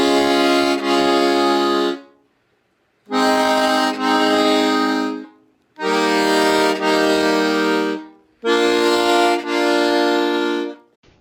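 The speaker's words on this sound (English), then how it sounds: "You're hearing 2 reeds sounding in unison for each note." An accordion's bass side plays four sustained triad chords on row 3, two reeds in unison per note, each about two seconds long, bright and buzzy, separated by short silences.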